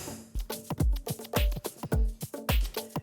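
Layered bongo samples bounce over a punchy kick and snare in a busy, steady groove, with sharp hand-drum hits repeating in quick syncopated patterns, loud and close, no voices.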